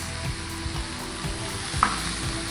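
Sweet peppers and onions sizzle steadily in a hot pan, with soft scraping and stirring noises recurring through the frying and one brief sharper clink near the end.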